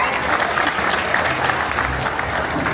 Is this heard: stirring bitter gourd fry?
no